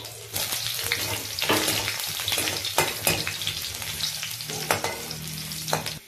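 Onion sizzles and crackles in hot oil in a wok, a steady close frying hiss with repeated sharp pops and stirring scrapes throughout.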